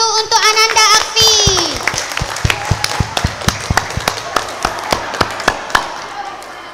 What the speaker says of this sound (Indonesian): Kasih tepuk tangan dulu untuk Ananda Akfi